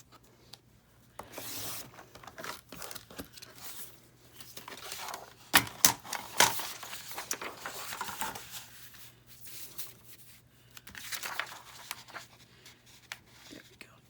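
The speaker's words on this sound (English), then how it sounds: "So we're gonna go through and cut another little bit off." Scissors snip a thin strip off a paper journal page, making close crisp cuts and rustling paper in bursts, with soft speech heard in places.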